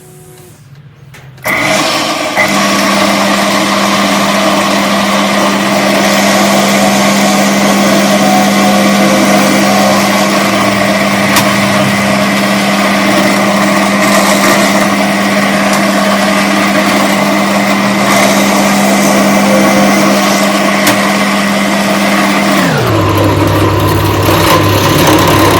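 A power drill runs continuously for a long stretch with a steady high whine, drilling holes for a portable picnic wine table, then slows and changes pitch near the end.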